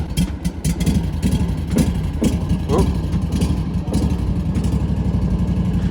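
A riding lawn mower engine catches with a few uneven, sputtering bursts, then settles into a steady, close, mid-pitched idle that runs on alone.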